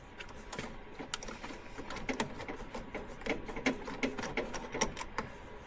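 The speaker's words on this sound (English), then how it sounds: "So we're gonna get our 8mm Allen socket in there and just get that nice and broke loose." A ratchet fitted with an 8mm Allen socket works a fill plug loose on the front differential of a Polaris Xpedition XP-ADV, giving a close, rapid run of sharp mechanical clicks over several seconds.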